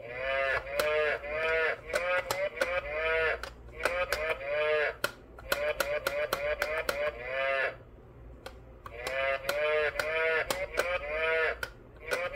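A kids' toy piano's electronic cow moo repeats several times, each bleating tone wavering, with sharp clicks of keys being pressed between them.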